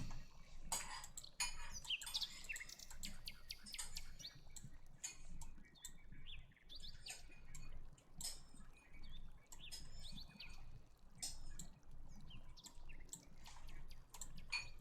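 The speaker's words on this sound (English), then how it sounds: "It's just sometimes the bird sounds gets way too much." Dense ambient birdsong from a fantasy tabletop game soundscape, with many overlapping chirps and tweets repeating steadily throughout over a low background bed, fairly loud and continuous with no talking.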